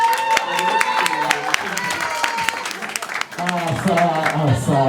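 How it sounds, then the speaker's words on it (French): Guests at a wedding in a reception hall clapping together in a sustained round of applause, with loud amplified speech and possible music over the top; the clapping sits partly under the voices. "on applaudit très fort, s'il vous plaît."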